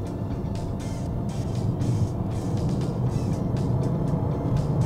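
A Peugeot 408 with a 1.6 turbo engine driving in sport mode, a steady cabin drone of engine and road noise with a few faint shifts in tone.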